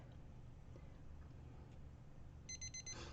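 A timer alarm beeps in a quick run of short, evenly spaced electronic tones near the end, over a faint room hum at an epoxy resin auction.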